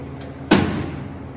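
A metal door and latch on a service truck toolbox swing shut in a single sharp, loud slam with a short ringing decay, close by and alone.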